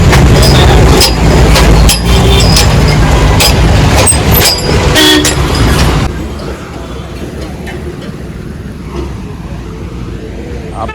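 A train rumbling loudly past a railway level crossing at close range, with a continuous clattering roar that drops to a quieter rolling sound partway through.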